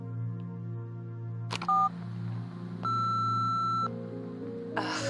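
Phone dialing tones in the video game Nobody Wants to Die: a short beep, then a longer steady tone lasting about a second, set over a low ambient hum.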